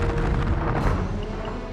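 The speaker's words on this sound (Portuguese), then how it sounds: "No mesmo momento, 3 grandes explosões sacudiram Kazan." Mines packed in tunnels beneath the walls of Kazan go off during a siege. The blast is a heavy, continuous rumbling boom that fills the short clip, loud and dense, with no voices.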